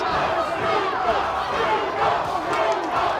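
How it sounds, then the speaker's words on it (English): A boxing arena crowd roars steadily and loudly during a pro fight between Neeco Macias and Jesus Soto Karass, a dense wall of cheering and shouting with no breaks. "The crowd is just as fervent as Neeco is about throwing punches."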